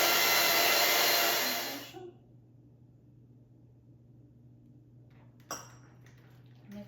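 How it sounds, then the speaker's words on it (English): An electric mixer beating egg whites at high speed for Viennese cookies, a loud steady whir that cuts off after about two seconds, followed by near quiet and a brief clink. "Now we start adding egg whites. Again, 3 steps. Mix it."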